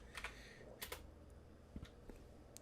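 Fingers type on a computer keyboard while searching a 3D software workspace, giving quiet, scattered clicky keystrokes in small irregular clusters with short pauses between them.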